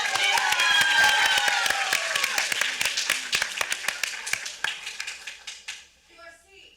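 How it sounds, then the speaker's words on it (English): A theater audience at a young playwrights' festival of cold readings claps for a playwright, loud at first and thinning into scattered claps that fade to near silence. "Let's give him a round of applause."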